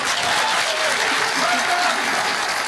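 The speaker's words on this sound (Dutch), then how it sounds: "Het meest opvallende is het harde applaus." Loud, dense applause from a Dutch TV talk-show studio audience, a steady wash of clapping that holds at full strength from start to finish.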